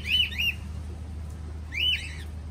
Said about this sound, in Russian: Тут у них несколько клеток с попугаями